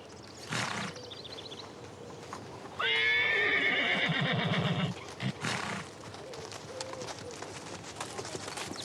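Horses at a breeder's gathering with about forty riders in the Haut-Var, France: a loud close whinny followed by hooves clip-clopping on the ground, with a few other brief snorts and steps around it.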